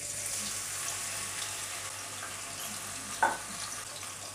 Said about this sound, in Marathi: तर यामध्ये आपण आलं लसूण आहे ना ते घालूया फोडणीला